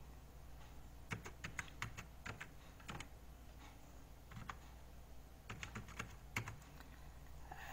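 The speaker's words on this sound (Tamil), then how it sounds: "இப்போது லாஸ்ட்டாக கண்டுபிடிச்ச யூசர் ஐடியை வந்து இதில் டைப் பண்ணுங்கள்." Someone types on a computer keyboard, entering a user ID into an employment account recovery form, in irregular bursts of sharp clicking key taps separated by short pauses, close by and quiet with no talking.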